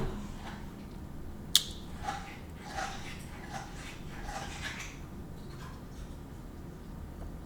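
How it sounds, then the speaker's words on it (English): A dog chews on her toy nearby indoors, a series of soft squeaky, snuffling bursts after one sharp click, fairly quiet against a steady room hiss. "That noise is my dog chewing on her toy."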